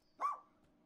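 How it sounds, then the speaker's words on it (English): A cartoonish puppy in The Coin Game video game lets out one short, bright bark, fairly close and clear, followed by quiet game ambience. "Puppy."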